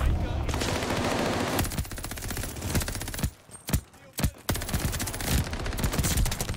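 Gunfire in Call of Duty Vanguard multiplayer: loud, dense automatic bursts fill most of the stretch, broken by a short lull with a few separate shots before firing picks up again.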